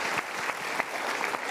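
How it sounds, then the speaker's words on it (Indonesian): Studio audience at an Indonesian talk show applauding steadily, a dense continuous patter of many hands clapping close and loud throughout with no talk over it. "Berikan tepuk tangan sekali lagi."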